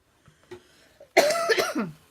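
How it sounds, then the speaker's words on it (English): A quiet stretch with a few faint small noises, then a sudden harsh cough that breaks into a rough burst lasting about a second. "I apologize for coughing."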